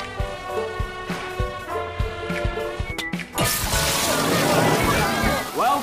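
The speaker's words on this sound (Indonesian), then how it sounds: "Pak Chen mengerjai mereka dengan membuka keran hidran." Water bursts and gushes loudly from an opened fire hydrant in a film scene, a sudden heavy roaring spray that follows a stretch of voices and music with sharp impacts.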